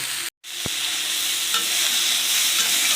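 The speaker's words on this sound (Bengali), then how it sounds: "ঝিঙেটা একটু ভালো করে ভেজে নেব" Ridge gourd fries in a pan with a dense, continuous sizzle, broken by a brief gap and a sharp metallic tap near the start.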